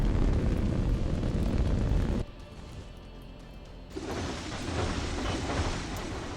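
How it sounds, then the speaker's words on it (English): A full salvo of command-guided missiles launched in a space battle game roars as a loud rumbling wash, drops abruptly to a quieter hum, then surges back as a hissing, sustained roar. "More missiles out here. This is a full salvo."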